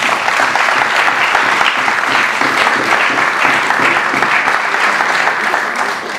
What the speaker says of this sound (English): I'm not satisfied with that round of applause for her.